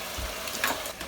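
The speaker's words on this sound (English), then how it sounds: "You can hear that bubbling away and you can probably see it too." White vermouth reducing in a pan fizzes and crackles softly in a constant, close bubbling sizzle, faint and without voices.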